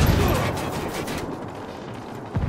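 A heavy, close burst of artillery fire in the video game Ghost Recon Wildlands, in Caimanes Province, rumbles loudly at first, then fades into a low, rolling decay with a fresh thud at the end.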